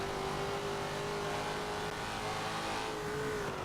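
A race car in Forza Motorsport 7 accelerates hard onto the front straight, its engine a loud, sustained, rising whine that holds close and steady throughout.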